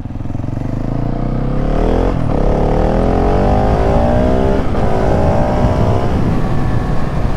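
A KTM 701 Supermoto motorcycle, restricted, pulls a clutchless wheelie in second gear, its single-cylinder engine revving loud and close with rising pitch, a brief dip and then climbing again.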